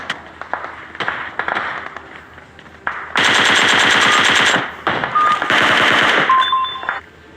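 Rapid bursts of automatic gunfire in PUBG, with scattered single shots first, then long loud volleys and brief electronic beeps near the end.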